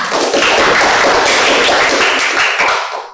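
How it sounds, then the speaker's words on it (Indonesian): A classroom group claps for a student at a teacher training performance exam, a dense, steady patter of many hands held at close range for about three seconds before tapering off. "Tepuk tangan untuk Okta"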